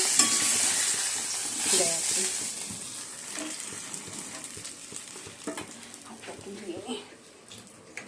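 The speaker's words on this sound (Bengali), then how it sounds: "আমরা মাছটা ভেজে নিচ্ছি" Fish frying in a pan with a broad, steady sizzle and occasional stirring clatter, close and fairly loud, while people talk over it throughout.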